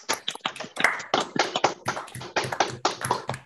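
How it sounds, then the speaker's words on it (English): Several people on an online call unmute and clap together, producing a brisk, uneven run of close hand claps that lasts a few seconds with no talking. "Let's all unmute and give a round of applause."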